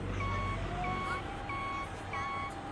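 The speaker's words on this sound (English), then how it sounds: "Not to worry, that's just our trash truck collecting the deleted content." Steady repeating reversing beeps from a trash truck in a stage play, evenly spaced electronic tones sounding four times over a low background hum.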